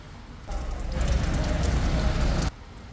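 Rain falls steadily as a dense, even hiss and patter for about two seconds, starting and stopping abruptly.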